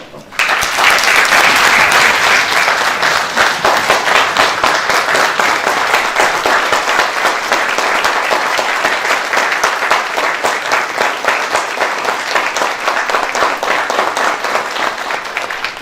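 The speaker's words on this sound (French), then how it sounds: "je vous invite à vous lever pour l'applaudir chaleureusement" A standing audience at a ceremony applauds warmly, a dense, loud, steady wall of many hands clapping that starts abruptly and carries on for about fifteen seconds with little variation.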